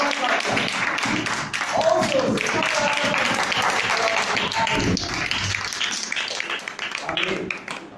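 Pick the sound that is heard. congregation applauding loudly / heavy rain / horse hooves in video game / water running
congregation applauding loudly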